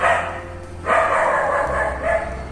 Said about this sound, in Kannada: ಯಾಕೋ ನಾಯಿ ಬೊಗಳ್ತಾ ಇದೆ.